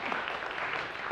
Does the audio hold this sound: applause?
yes